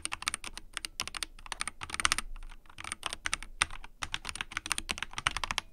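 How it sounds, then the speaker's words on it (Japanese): Light, clacky typing on a Drunkdeer G65 gaming keyboard with ABS keycaps, a steady run of close, crisp keystrokes with brief pauses, no voices. "ABS のキーキャップなのでコトコトっていう音よりかはカタカタ系のちょっと軽めの音"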